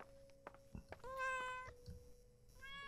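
A cat meows twice in the horror video game Layers of Fear: Inheritance, with clear drawn-out calls amid soft footsteps and faint thuds.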